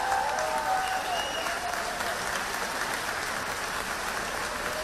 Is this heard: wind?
no